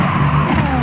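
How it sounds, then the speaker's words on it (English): A car engine in the racing game The Crew 2 roars steadily and loudly for under a second, a continuous dense drone with no speech. "The roar of the engine"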